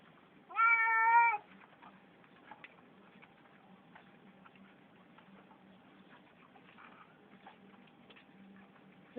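A kitten gives a single clear, rising meow near the start, followed by quiet ticking and light shuffling noises as the rest of the scene settles into near silence.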